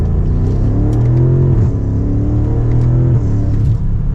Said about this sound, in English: you can hear a little bit of that turbo and of course the exhaust for this model